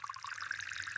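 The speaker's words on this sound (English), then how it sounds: "I am pouring tea into a cup." Tea pouring into a cup: a steady, bright liquid splash that runs unbroken for about a second at close range, with no voices.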